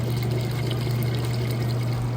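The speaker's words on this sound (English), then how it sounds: "you should still be able to hear that water draining out" A Crosley washing machine drains water, a steady gurgling pour under a constant low hum from a nearby heating system.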